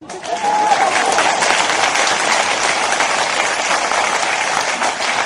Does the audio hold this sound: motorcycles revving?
no